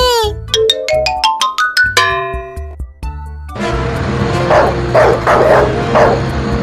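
Cartoon dog barking and yipping in a comic animated chase, starting with a run of musical stabs and then becoming a busy, loud stretch of repeated barks over cartoon music and effects.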